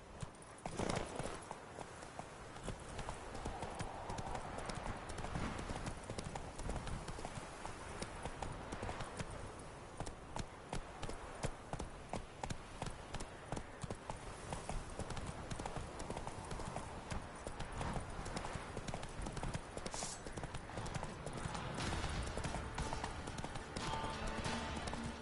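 Roach the horse galloping in The Witcher 3, a steady run of hoofbeats clip-clopping throughout alongside game ambience, with a rider's voice speaking at times.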